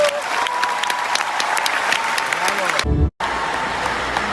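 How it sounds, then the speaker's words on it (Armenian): An audience gives loud, sustained applause for singer Tatev Asatryan, a dense clapping roar that cuts out briefly near the end before resuming. "Տաթև Ասատրյան, բարձր ծափահարություններ։"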